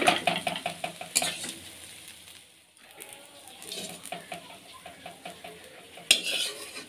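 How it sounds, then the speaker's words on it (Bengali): Fried potatoes lifted out of a frying pan with a spatula: a run of close metallic clinks and scrapes against the pan, easing off midway, then a sharp knock and more scraping near the end. No one speaks. "আলু ভাজাটা আমার হয়ে গিয়েছে, এটা উঠিয়ে নেবো"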